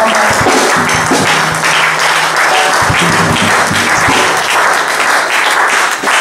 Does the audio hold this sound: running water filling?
no